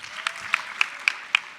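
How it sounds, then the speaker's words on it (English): Applause for a teacher at a high school 50th anniversary assembly: steady clapping from an audience with a few sharper claps standing out, brief and close. "give him one more round of applause."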